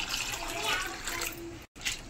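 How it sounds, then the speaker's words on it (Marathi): Chana dal being rinsed in a bowl of water while preparing puran for puran poli: a close, steady wet swishing and sloshing that runs continuously, then breaks off for a moment near the end before resuming. "याला 2-3 पाण्याने मस्त असं धुवून घ्यायचं"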